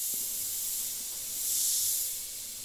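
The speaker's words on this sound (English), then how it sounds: "If I go and just spray in one spot, you can see we're getting a nice heavy spray" A steady, close hiss from an Iwata HP.C Plus airbrush spraying paint continuously, swelling louder for a moment in the middle before easing back.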